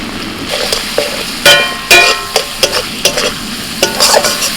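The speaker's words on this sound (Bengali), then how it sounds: "দু মিনিট মশলাটা কষে নিয়ে দিয়ে দিচ্ছি টমেটো" Tomatoes fry in a pan with a spice paste of turmeric, cumin, coriander and Kashmiri chili powder. A spoon scrapes and stirs in repeated loud strokes over a low, constant sizzle.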